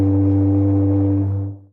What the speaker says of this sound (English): more like the Brahm in tone, if not attitude, is the foghorn